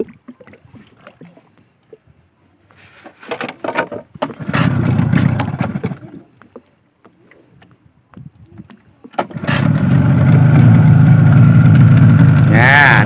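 A second-hand Yamaha 25 hp outboard motor on a boat starts in short bursts, then runs loud and steady near the end, with people talking in the gaps between.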